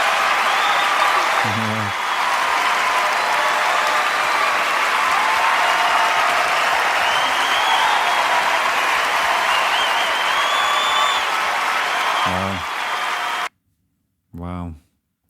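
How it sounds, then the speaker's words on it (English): A huge stadium crowd at a concert roars and applauds in a loud, unbroken wall of cheering and clapping; it cuts off abruptly near the end, and a listener talks briefly over it. "Oh, the roar of that crowd, man."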